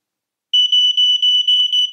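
A Busch-Jaeger ProfessionalLINE smoke alarm sounding its test: a loud, piercing high-pitched beep pulsing rapidly and steadily after a half-second of silence, alone and close.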